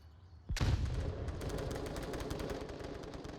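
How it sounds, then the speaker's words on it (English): A sharp blast opens into rapid, sustained bursts of gunfire in the VR shooter game Onward, dense automatic shots rattling on continuously at close range. "All the gunfire coming out."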